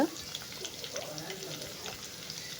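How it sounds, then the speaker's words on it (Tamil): Onions frying in hot oil, a faint continuous sizzle with soft stirring sounds, heard up close and fairly quietly. "எண்ணெய் சூடானதும் வெங்காயத்தை அப்படியே அதுக்கு விட்டு போட்டுக்கோங்க"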